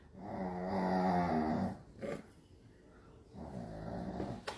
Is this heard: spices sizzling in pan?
no